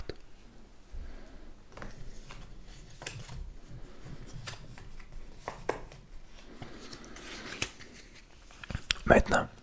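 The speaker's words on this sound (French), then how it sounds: "le joueur de qui c'est le tour pige 5 cartes." Skip-Bo playing cards drawn one by one from a deck on a table, soft close sliding and flicking sounds with light rustles throughout, ending in a louder burst of shuffling and handling.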